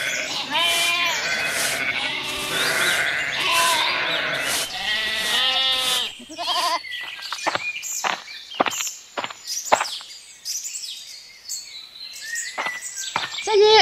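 Several sheep bleat loudly on a farm, overlapping cries filling the first few seconds, then scattered footsteps and shuffling with occasional further bleats.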